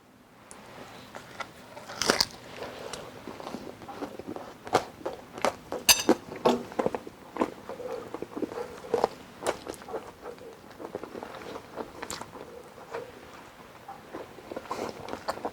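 Crunchy bites into a baked frozen pizza, a series of sharp, irregular crunches and chewing close to the microphone, mostly without talk.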